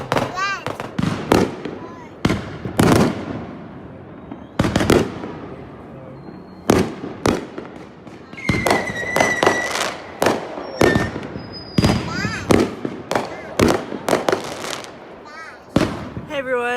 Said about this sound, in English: are watching the fireworks from our sunroof in our vehicle